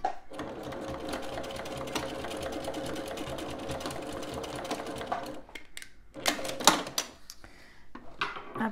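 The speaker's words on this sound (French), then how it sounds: "Je retourne sur l'endroit pour faire une surpiqûre." A sewing machine topstitching a fabric toiletry bag runs steadily for about five seconds, stops, then gives a few shorter bursts of stitching with handling noise in between, close and fairly loud.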